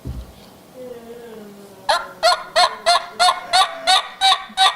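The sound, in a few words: game call being huffed by forcing air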